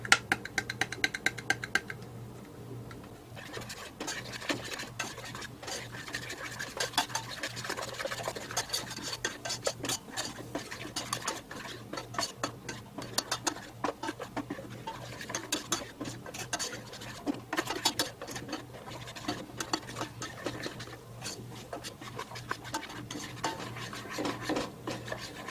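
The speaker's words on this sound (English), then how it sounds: "In this pan I have 2 tablespoons of butter, and to that I'm going to add 2 tablespoons of flour." Flour being stirred into two tablespoons of melted butter in a pan, heard as a steady, soft scraping and rubbing of a utensil against the pan bottom, continuous and close with small clinks, no talking.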